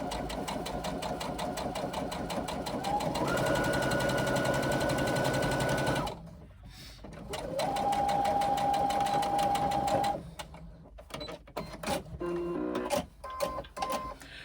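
A sewing machine stitches a hobo shoulder bag in long, steady whirring runs with a rhythmic needle clatter, pausing briefly between bursts, then stopping and starting in short stutters toward the end, close and loud.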